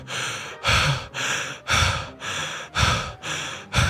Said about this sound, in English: they're just breathing so loud because it's probably so sweaty in there